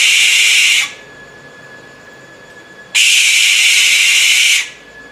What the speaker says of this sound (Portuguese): o pássaro pousa nos telhados ou nos muros das casas emitindo um som assobio